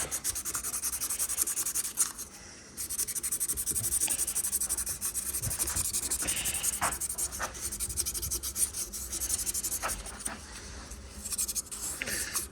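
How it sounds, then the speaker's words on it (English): A jet ski part is sanded by hand with 1500 grit sandpaper, a continuous scratchy rubbing with irregular back-and-forth strokes and occasional small knocks, steady and close up. "Here I've just got my 1500 grit sandpaper to start with. Just get in there and just give it a really good wipe around."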